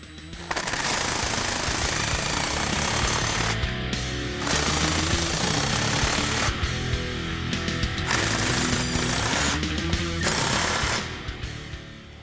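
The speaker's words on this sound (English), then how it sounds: "Now you can tighten all the clamps" A power impact tool rattles hard in long, loud bursts while tightening the aFe cat-back exhaust clamps on a Jeep Wrangler JK, with short pauses between runs.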